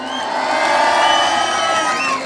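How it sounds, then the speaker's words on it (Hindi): Students and guests at a boys' under-19 zonal tournament prize distribution cheer and shout together, a loud, continuous crowd roar with high children's yells and whoops rising above it. "इसके लिए जोरदार तालियां।"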